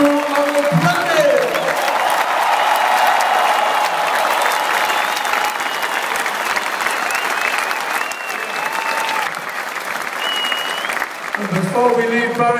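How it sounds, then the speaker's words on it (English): A huge stadium crowd at a 2012 concert in Paraguay applauds and cheers the road crew, a dense, loud, sustained roar of clapping and shouting that holds steady throughout and swells again near the end. "Let's hear applause for the best crew on the planet"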